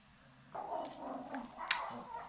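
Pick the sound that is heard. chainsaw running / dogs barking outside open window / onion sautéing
dogs barking outside open window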